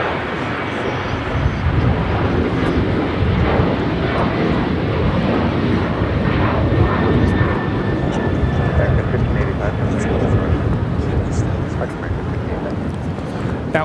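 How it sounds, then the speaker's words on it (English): An American Airlines Boeing 737-800 takes off from runway 25 right at Los Angeles airport with a loud, steady jet roar that holds near and full for the whole stretch, with faint talk mixed in. "We have a American 737-800 now taking off"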